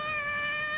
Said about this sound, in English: That cat, that screaming cat.